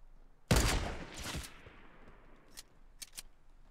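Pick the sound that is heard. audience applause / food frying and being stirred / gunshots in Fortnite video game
gunshots in Fortnite video game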